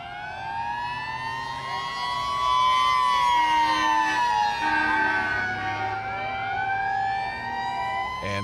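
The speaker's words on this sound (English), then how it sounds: "the annual emergency vehicle parade roared out onto Woodward with lights flashing and sirens blaring" Emergency vehicles rolling out in a street parade on Woodward blare several overlapping wailing sirens at once, loud and continuous, rising and falling together throughout.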